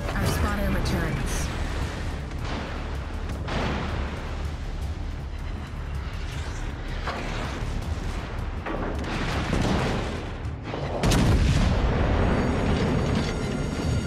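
Naval artillery in World of Warships: Legends booms in repeated heavy salvos, with a louder blast near the end, under a continuous mix of game chatter and rumble.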